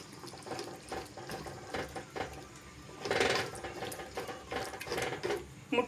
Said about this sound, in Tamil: இதை நல்லா கலந்து விட்டுக்கலாங்க